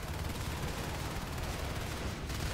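Dense, continuous shotgun fire from a competitive video game match, Nexzil versus Duplex, with overlapping blasts forming a steady loud barrage throughout.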